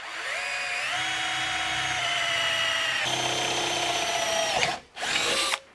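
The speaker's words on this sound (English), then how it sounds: "Now the challenge is where to drill the through hole for this 1/4 bolt." A power drill bores a through hole for a 1/4 bolt in a table saw fence, a steady close whine with shifting pitch that cuts out briefly near the end and then resumes.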